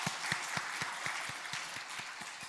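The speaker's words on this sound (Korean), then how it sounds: "혹시 중고등부, 청년부 위해서도 한번 같이 박수하겠습니다" A church congregation claps together for the youth groups during a Sunday service, faint and distant, with a steady rhythmic beat of unified claps under a wash of scattered clapping.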